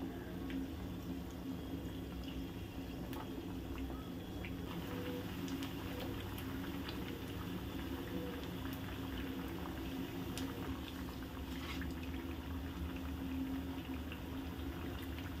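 Sabudana vadas deep-frying in hot oil give a continuous, even bubbling hiss that holds steady throughout, with no voices.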